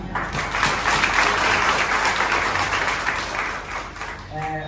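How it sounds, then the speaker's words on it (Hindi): An audience at a motivational event in Bihar gives hearty applause, a thick, continuous wash of clapping that holds steady and fades near the end, with a voice starting up just after. "इनके लिए भी जोरदार तालियां"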